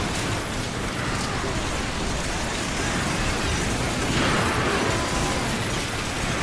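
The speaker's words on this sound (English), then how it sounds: "the many, many explosions that are happening in EDF" A dense, continuous roar of explosions and gunfire from the bug-fighting video game EDF6, loud and unbroken, with overlapping bursts blending into a noisy wash and a swell near the end.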